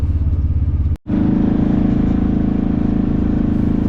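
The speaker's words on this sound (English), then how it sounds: "Our driver for the day, driving the Polaris Ranger, was Trace Bruning." A Polaris Ranger UTV engine drones steadily on a dirt trail near Rangely, Colorado, with a throbbing low rumble that cuts out briefly and then returns louder and even.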